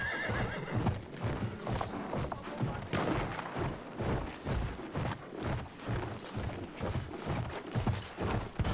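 Horse hooves clip-clop at a steady gallop in Battlefield 1, with loud whinnies breaking through, amid busy game background noise.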